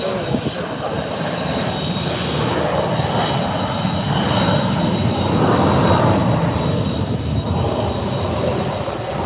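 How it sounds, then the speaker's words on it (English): A Contour Embraer 145 regional jet bound for St. Martin roars steadily and loudly at close range, its engine noise a broad, constant rush across the whole clip. "this is Contour 3206 heading to St. Martin on the Embraer 145"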